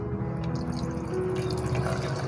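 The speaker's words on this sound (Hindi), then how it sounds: "इसमें डाल देंगे और हस्बे ज़रूरत थोड़ा सा पानी।" Water is poured into aloo bukhara plum pulp before blending, making a soft, continuous trickling splash that stays fairly quiet and close throughout.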